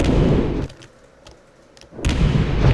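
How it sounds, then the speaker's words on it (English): A video game explosion effect, set in an editor to fire when a player enters a trigger zone: a loud broadband blast that dies into a quiet gap, then a second heavy burst rumbling on. "Let's just do a little explosion sound when we enter that."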